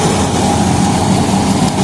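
A John Deere Gear Pro 5210 4x4 tractor with 500 running hours and a straw-chopping machine attached runs at a steady, loud, close-up drone with a continuous low engine rumble.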